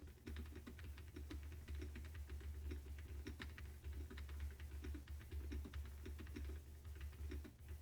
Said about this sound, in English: Here is a test on recording keyboard sounds. My keyboard is a little bit loud.